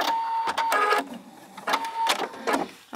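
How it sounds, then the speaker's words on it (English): A Brilliance 75Q quilting machine tying off its stitching and cutting the thread, heard as a few short, loud mechanical whirring and clicking bursts separated by brief pauses. "it's going to tie off, and then I'm going to tell it to cut."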